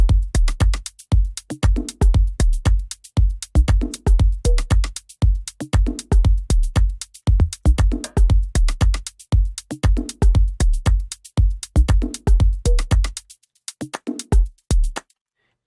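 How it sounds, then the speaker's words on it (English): An organic house drum groove, with a deep kick pulsing in a steady four-on-the-floor pattern and subtle little percussion hits filling the gaps between beats, playing alone and close. "add in some subtle little percussion sounds right in between where empty spaces are"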